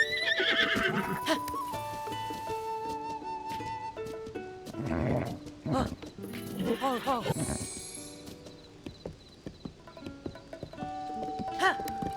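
A horse in Zelda: Tears of the Kingdom whinnies loudly with a rising and falling neigh amid game music, with clip-clop hoofbeats and other game sounds around it.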